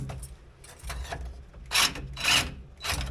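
A Sawzall reciprocating saw with a 6-inch medium metal blade cuts through a rubber leaf spring bushing in a series of rough, rasping bursts separated by short pauses, close and moderately loud.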